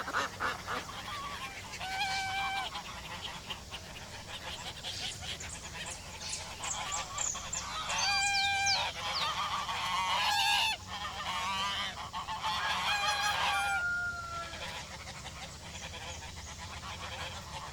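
Geese kept by an animal trainer honk in repeated bursts, some in quick overlapping volleys, at moderate distance over a constant low background hum, with no talking.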